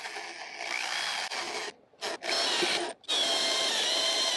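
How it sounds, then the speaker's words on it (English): A power drill whirs in several bursts, stopping briefly twice between runs, close and fairly loud, with grinding as the bit cuts into the metal of a Harley-Davidson Ironhead cylinder head. "So let's drill a hole."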